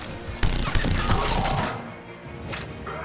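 The Hurricane gun fires in the video game Mass Effect 3 in rapid, punchy bursts. Several loud bursts come close together over the first half, then quieter shots follow.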